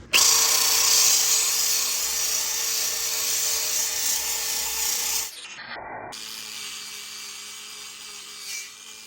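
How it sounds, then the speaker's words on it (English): A power drill with a sandpaper wheel whines loudly and steadily with a gritty abrasive hiss while sanding a steel smoker, stops briefly, then resumes at a lower, steady pitch. "take a sandpaper wheel on our drill"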